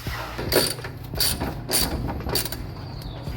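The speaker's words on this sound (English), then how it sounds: "I've already gone through and tightened all of these with my 3/8 ratchet." A 3/8 ratchet tightens motor mount bolts on a 2019 BMW 330i, giving repeated rhythmic clicking strokes, close and fairly loud, with no talk.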